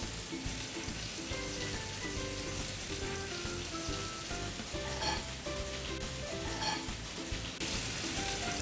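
Eggplant sauce with mushrooms frying and sizzling in a pan while being stirred, a steady, fairly loud crackle with scraping and clinking of the utensil throughout.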